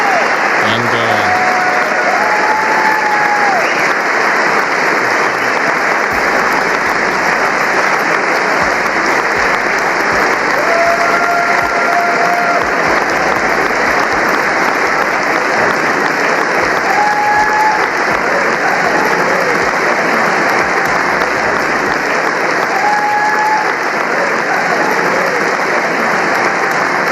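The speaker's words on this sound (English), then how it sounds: "that applause is from both parties, man" Sustained, loud applause from a large assembly greeting Israeli Prime Minister Benjamin Netanyahu, a dense unbroken roar of clapping that keeps going throughout, with faint crowd voices beneath.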